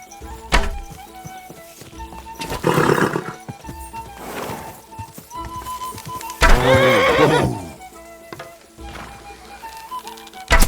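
A horse whinnies loudly twice in the medieval game Kingdom Come: Deliverance II, with bursts of hoof clatter and thuds between the calls against a quiet background.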